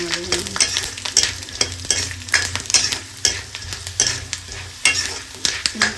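Black soybeans (kale bhatt) dry-frying in a pan, giving a steady crackling sizzle broken by repeated scraping stirs, close and moderately loud with no voices.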